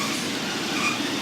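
A train rolls through a station at Moses Gate or Farnworth in North West England, a loud, steady rumble of wheels and carriages that continues with no voices, plus a faint squeal near the middle.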